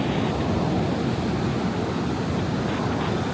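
Big ocean waves crash and churn along Benidorm's Levante beach, a loud, continuous roar of surf mixed with wind buffeting the microphone.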